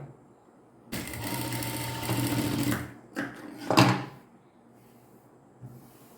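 Sewing machine running steadily for about two seconds as it stitches a folded three-quarter-inch hem on a pair of pants, followed by a few short mechanical clicks and a last brief burst of stitching.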